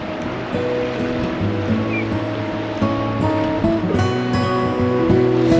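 Ocean surf rolls and washes steadily nearby where the Glenelg River meets the sea at high tide, near Dartmoor, Victoria, Australia, mixed with gusty wind against the microphone and a low humming tone underneath.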